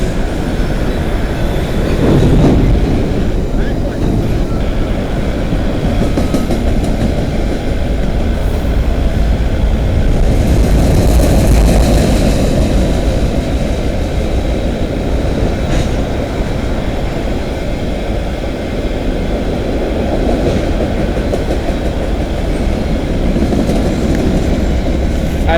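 CN M301 freight train bound for Winnipeg rolls past at London East Yard, a loud continuous rumble of wagons with rhythmic wheel clatter and occasional squeal, close by throughout.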